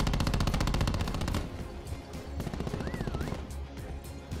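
Rapid automatic gunfire in Call of Duty Black Ops 4 prop hunt mode: a dense, fast string of shots for over a second, then more scattered bursts and pops at a lower level with a faint electronic tone.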